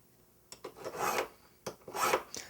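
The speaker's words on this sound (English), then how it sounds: "Because the teeth on the file have a tendency to grab." A metal hand file rasps across a jewelry ring held in a groove on the bench, two close, quiet runs of short scraping strokes separated by a brief pause.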